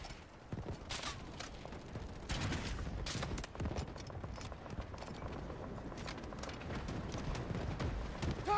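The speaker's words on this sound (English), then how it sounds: "Artillery barrage incoming." An artillery barrage in a military shooter game, rapid overlapping booms and crackling impacts rolling continuously at moderate loudness, with no talk.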